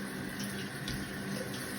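A brand-new shower head sprays water onto a wall, giving a steady, close, continuous hiss of spray with no break and no voices.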